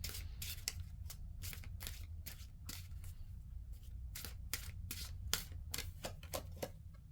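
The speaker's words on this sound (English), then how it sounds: "pull one last card for you" Tarot cards are shuffled in quick repeated riffling bursts, crisp and close, with a steady rhythm of papery snaps over a low background hum.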